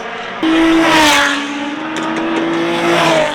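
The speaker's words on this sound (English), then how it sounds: "Dude, LZ just came up the bank drifting" Nissan 350Z cars drifting on a race track bank, a loud engine wail and screeching tires that start suddenly and hold steady near the listener, with a second car faintly audible later.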